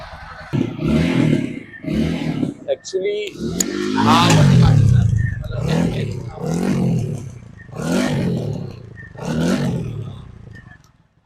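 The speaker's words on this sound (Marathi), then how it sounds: "हा गाडीचा ओरिजिनल आवाज आहे" A TVS Apache RTR 200 4V motorcycle idles in neutral, its engine note rising and falling in pulsing surges with a suspected vibration fault. Someone talks briefly near the start, and the engine runs close and loud throughout.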